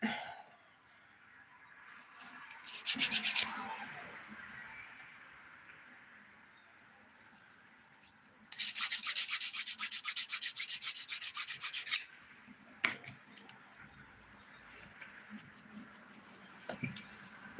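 Fingernails being buffed with a nail buffer during an at-home dip powder manicure: a few bursts of brisk, close rasping rubbing, one short and one longer sustained pass, with quiet pauses between.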